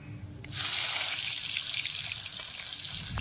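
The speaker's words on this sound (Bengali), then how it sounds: "মাছগুলো দেবো, বেশি ভাজবো না, অল্প করে ভেজে নেব" Live koi fish going into hot mustard oil in a kadai: a sudden loud hiss bursts in after a quiet moment, then holds as a steady, close, sputtering sizzle.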